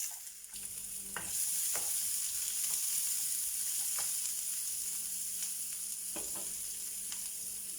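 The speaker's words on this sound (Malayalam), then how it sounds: "ഇനി ഇതിലേക്ക് ഒരു ചെറിയ സവാള ചെറുതായിട്ട് അരിഞ്ഞിട്ട് കൊടുക്കുന്നു." Chopped onion, mustard seeds, red chili and curry leaves sizzle steadily in hot oil, a continuous bright frying hiss with occasional soft stirring knocks, fairly close and with no talking.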